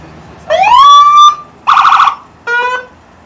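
Loud, close police car siren in short bursts: a rising wail, then warbling yelps and a final brief blast, each separated by short gaps.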